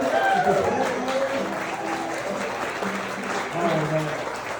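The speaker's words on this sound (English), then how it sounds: "they're clapping, they seem kind of hungry for more." An audience claps steadily for an encore after a story-and-song performance, dense applause holding at a fairly loud, even level under overlapping talk and cheering voices.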